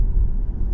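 Inside an Alfa Romeo Tonale driving in electric mode, a steady low road rumble fills the cabin with no engine noise above it. The sound is constant and muffled, with no talking.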